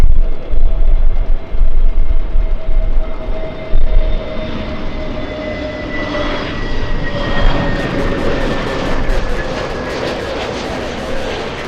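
A Japanese airliner on final approach at LAX, its engine roar steady and continuous at a moderate distance, with a faint high whine riding over the broadband rumble and no voices.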